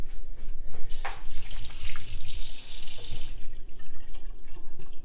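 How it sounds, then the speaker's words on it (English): Water runs from a kitchen tap while hands are washed beneath it, a loud, steady splashing hiss with uneven gushes as the hands move through the stream, with no one talking. "I have to wash my hands."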